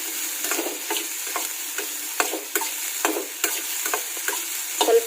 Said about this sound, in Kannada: ಹಾಗಲಕಾಯಿನ ಸಣ್ಣದಾಗಿ ಹೆಚ್ಕೊಂಡು ನಾನಿಲ್ಲಿ ಒಂದು ಸ್ವಲ್ಪ ಎಣ್ಣೆ ಹಾಕ್ಕೊಂಡು ಹುರ್ಕೊಳ್ತಾ ಇದ್ದೀನಿ